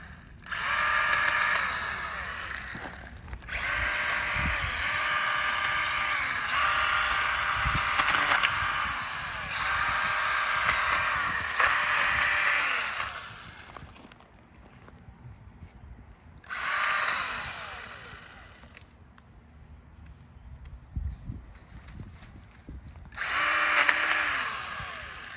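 A STIHL Kombi power tool cuts tree branches in bursts of loud, close whining buzz, several long runs broken by quieter pauses, with no talking.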